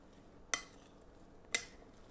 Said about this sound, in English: So you're going to stir that all up.